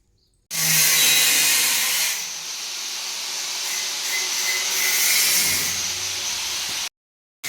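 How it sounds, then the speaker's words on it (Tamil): A power tool cuts through a steel wardrobe with a loud, close, continuous high-pitched hiss and whine lasting several seconds, then stops abruptly. "அந்த அண்ணன் வந்து பீரோ கட் பண்ணிகிட்ருக்காப்புல"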